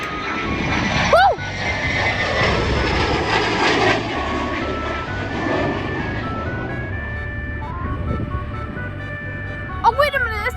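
An airplane taxis at an airport, its engine a loud droning roar that slowly fades and thins as it moves off, with people talking and exclaiming over it.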